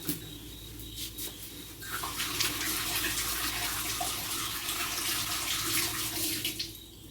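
Half a coconut rinsed under a running kitchen tap: a steady, fairly close stream of water splashing for about seven seconds with no talking.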